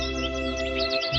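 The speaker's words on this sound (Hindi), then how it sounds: "दूर से आती है चिड़िया की आवाज।" Faint, high cartoon birds chirp and twitter over a steady, sustained musical drone in an animated scene, with no speech.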